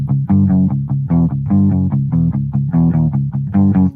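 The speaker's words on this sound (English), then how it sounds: "is to play metal riffs with no effects whatsoever" Clean electric guitar with no effects chugs through a rhythmic metal riff, steady palm-muted chords repeating loudly and evenly throughout.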